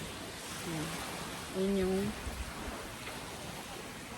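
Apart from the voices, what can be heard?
sea waves at the beach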